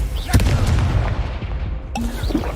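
Booming blasts of the Confringo fire spell in the Hogwarts Legacy video game, two or three dull explosive hits over a steady rumbling game soundtrack.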